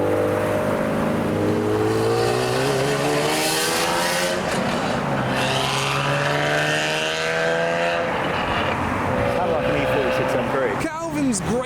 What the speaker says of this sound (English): Lamborghini Huracan S and a noisy NSX.